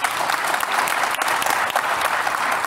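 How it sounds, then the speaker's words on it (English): An audience applauds a panel at a conference on national food systems, steady dense clapping throughout, close and loud, with no speech. "Can we please give them a big round of applause?"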